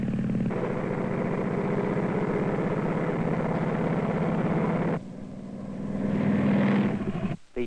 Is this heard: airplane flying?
yes